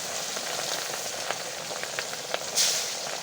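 Rui fish sizzling in hot oil in a pan, a steady, fairly loud fry hiss with a few small pops and a brief louder spatter near the end, no talking.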